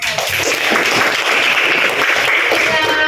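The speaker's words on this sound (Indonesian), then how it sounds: "Baik, berikan tepuk tangan untuk" Dense, steady applause from a classroom of students fills the whole stretch at close range, with voices mixed into the clatter.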